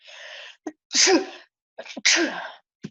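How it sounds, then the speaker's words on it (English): Two sharp sneezes, each preceded by a quick intake of breath, close to the listener. "I'm about to sneeze"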